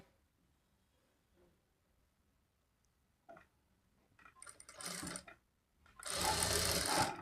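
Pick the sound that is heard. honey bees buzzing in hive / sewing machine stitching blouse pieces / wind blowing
sewing machine stitching blouse pieces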